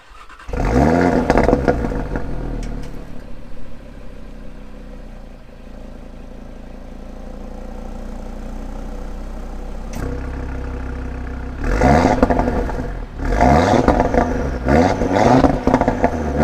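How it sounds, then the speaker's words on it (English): A 2018 Audi RS3 in dynamic mode starts up and idles, then its engine is revved several times in short bursts near the end, giving a loud, close exhaust note over the steady running. "start it up and just capture the exhaust note a bit"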